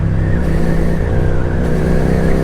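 A QJMotor SRK 400 or SRV 400 motorcycle engine revs steadily and close, with a deep, continuous throaty drone and no voices over it.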